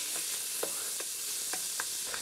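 Shallots, thyme sprigs and a bay leaf cook in a hot pan on a Rayburn range, giving a steady bright sizzle with a few soft stirring knocks at irregular intervals and no talking.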